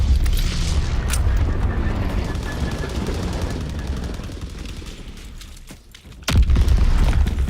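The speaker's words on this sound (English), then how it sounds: "Incoming enemy artillery." Enemy artillery shells explode in a Call of Duty WWII battle, with rumbling blasts and crackling gunfire running throughout, a sharp, loud explosion near the end, and voices under the din.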